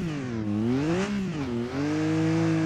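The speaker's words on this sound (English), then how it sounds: "That engine just sounds so different compared to the ones we've been driving." An off-road ATV engine in a video game revs up and down in smooth waves, a steady droning whine rising and falling, close and loud.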